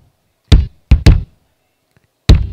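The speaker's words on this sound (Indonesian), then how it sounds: "Nah, sekarang gue naikin kick." Four punchy, low kick drum hits through a café sound system mix, at an uneven rhythm, loud and dry with a quick decay and nothing else playing.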